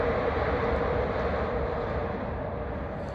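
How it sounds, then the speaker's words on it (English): A train rumbles past close by, a loud, steady roar of wheels and carriages that holds throughout. "Train."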